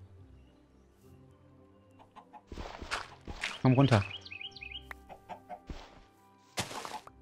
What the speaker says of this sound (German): Okay, es sind zwei Hühner.